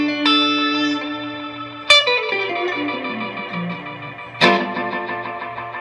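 Three sustained electric guitar notes, each struck then left ringing, run through a Digitech Obscura tape delay pedal, with warbling wow-and-flutter pitch wobble and echoing repeats trailing off between strikes, played alone.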